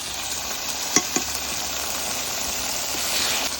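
Spices frying in oil in a pan for a meat curry. A steady hissing sizzle is broken by a couple of sharp pops or clinks near the one-second mark, and no one speaks.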